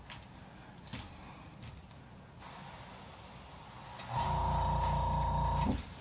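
Airbrush spraying a second coat of paint onto a blank fishing lure at close range, soft hissing at first, then a louder steady spray burst lasting about a second and a half before it cuts off.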